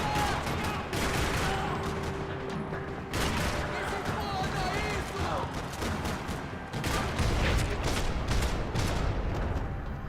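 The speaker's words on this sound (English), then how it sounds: "Another parking lot rattling with gunfire." Sustained gunfire in a parking lot shootout in Max Payne 3, with dense overlapping shots and automatic bursts rattling loudly throughout, under occasional speech.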